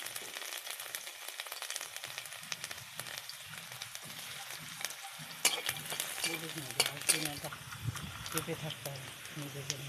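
Garlic sizzles and spits in hot oil with fried cumin, crackling steadily with stirring scrapes, while a voice talks quietly in the background.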